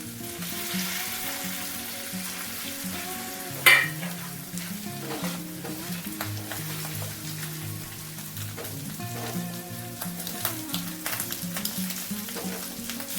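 Fish roe frying with salt and chilli powder in a pan, a continuous close crackling sizzle with an occasional spoon knock and steady stirring throughout.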